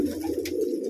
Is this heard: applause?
no